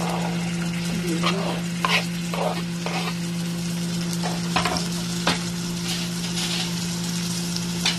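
Tomatoes poured into a very hot pan for a braised fish dish, sizzling steadily and loudly up close while a utensil scrapes and stirs with irregular clatters throughout.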